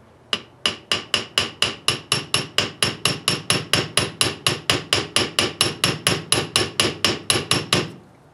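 Hammer tapping a big socket to seat the front wheel bearing on a VW Bus, about thirty sharp metallic strikes in a steady, even rhythm, close and ringing with no talk.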